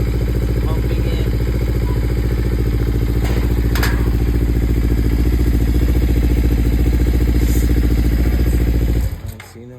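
A 2017 Kawasaki Ninja 300 EX motorcycle engine idles steadily and close by, a continuous even rumble with faint clatter, cutting off abruptly near the end.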